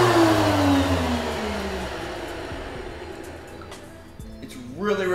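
A woodworking planer runs very loud, a steady dense mechanical roar with a falling whine as it spins down, followed by a brief revving swell at the end, close by with no talking.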